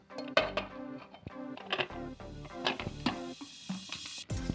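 Metal clinks and knocks as a lid is fitted onto a pressure cooker holding condensed milk in its carton, several sharp near taps and scrapes in a quiet kitchen.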